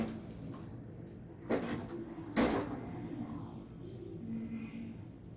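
At a station, train doors slide open in two short, sharp hissing and rattling bursts, with a low rumbling hum and faint chimes in the background.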